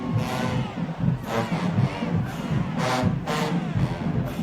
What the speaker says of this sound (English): Real nice sound sousaphones, real nice.